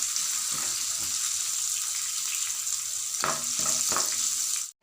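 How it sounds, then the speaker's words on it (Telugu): Green chillies frying over low heat in a pan give a continuous soft sizzle, with brief clinks and stirring scrapes of a utensil toward the end. "పచ్చిమిర్చి వేసుకొని పచ్చిదనం పోయేంత వరకు సిమ్లో వేయించుకుందాం."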